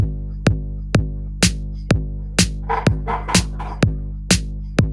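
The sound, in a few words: four to the floor kick drum with added snare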